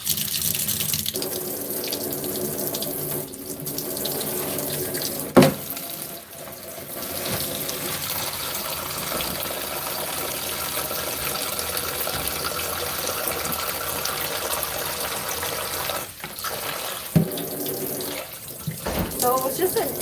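Cold tap water runs steadily into a kitchen sink while tilapia is rinsed, a continuous close splashing rush broken by brief clunks and a short pause before it resumes.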